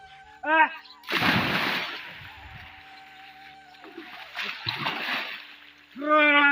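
A person jumps into a village pond to bathe in the morning, making two loud, close splashing bursts of churning water. Brief voiced sounds come at the start and the end.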